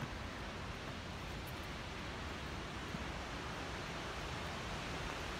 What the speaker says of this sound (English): As I closed in on the waterfall, the white noise continually became more and more deafening.